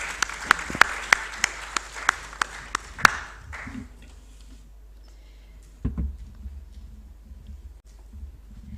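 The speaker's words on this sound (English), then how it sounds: "Can you join us, please? With a round of applause." Brief applause at a UN peacekeeping ministerial meeting: a few seconds of scattered, spaced claps from a sizable audience that stop quickly, leaving a quiet hall with a faint bump afterward.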